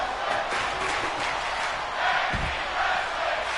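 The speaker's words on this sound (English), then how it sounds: "I hear the crowd in London chanting tag team wrestling." A wrestling crowd in London chanting during a tag team match, a loud sustained roar with rhythmic chant swells and a brief low thump partway through.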